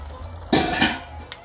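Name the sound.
mixing ground beef and cavatappi pasta in a pan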